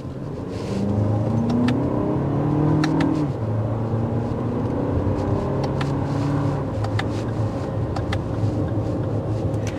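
Turbocharged 2024 Lexus TX 350, a large SUV weighing over 4,400 pounds, accelerating from inside the cabin, its engine note steady and rising throughout without any talk.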